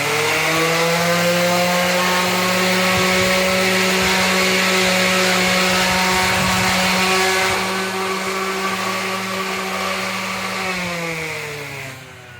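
A 36-grit abrasive disc on a power tool grinds the rough outer edge of an aluminum wheel rim, a loud steady whine held for about twelve seconds that eases off and winds down at the end.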